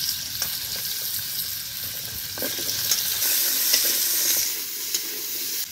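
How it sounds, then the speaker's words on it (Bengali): Potatoes and carrots dropped into hot oil left from frying cauliflower hiss in a loud, steady sizzle, with occasional stirring scrapes, close up and without speech. "কপি ভাজার তেলের মধ্যেই আলুগুলো দিয়ে দেবো"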